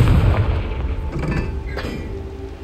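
A Confringo spell explodes in the Hogwarts Legacy video game, a heavy low boom at the start that slowly decays into rumbling, with faint creaking and clattering game sounds behind.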